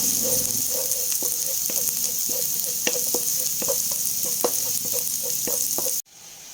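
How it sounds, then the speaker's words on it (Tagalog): Garlic sautés in a pan at the start of a beef and mushroom dish. Continuous close frying hiss runs under a regular pattern of light spoon-on-pan stirring taps, ending in a brief drop near the close. "Gisa ko muna yung bawang."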